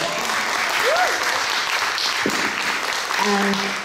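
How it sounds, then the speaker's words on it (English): Loud, dense audience applause at a publishing panel on art, books and culture, steady throughout, with a few voices calling out and cheering over the clapping. "And yes, you can clap for that."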